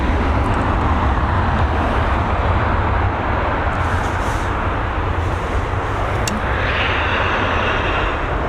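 A Ryanair-style airliner touching down at Dublin Airport: a steady, loud broadband jet roar fills the whole stretch without a break, with a faint rising whine near the end and no voices.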